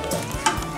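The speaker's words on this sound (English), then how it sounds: "All you're gonna do is just stir this around a little bit." Rice is stirred in a pot over a low sizzle, with a short scrape and knock from the spoon partway through, close and brief.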